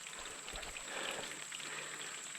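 Water falls and drips down a moss-covered rock face on the Indian Creek Trail, a faint, steady patter with a hiss throughout, heard alone.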